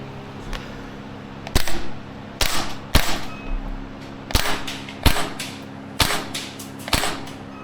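A Maruyama SPC-9 gas blowback airsoft rifle fires about a dozen sharp, snappy single shots at uneven intervals, each a crisp crack with a brief mechanical clack, close and loud against a quiet background.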